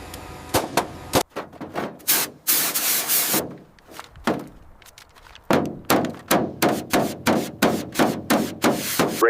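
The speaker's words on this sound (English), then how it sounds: "Clear to rivet." Riveting on an airplane fuselage panel: sharp, loud, close rapid bursts of pneumatic hammering, first in quick clusters, then a pause, then an evenly spaced run of about a dozen strikes.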